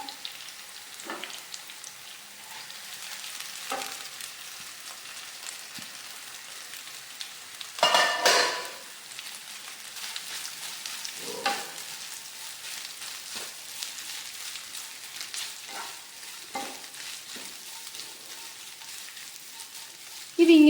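Garlic frying in a pan for beef pickle, a soft continuous sizzle with occasional stirring scrapes and one louder burst of crackle partway through, quiet and close.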